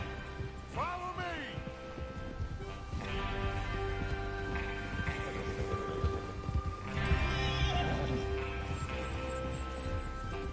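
Horses in the Red Dead Redemption II video game neigh and whinny several times over steady clip-clopping hooves, with a low rumble of movement underneath and someone talking over it.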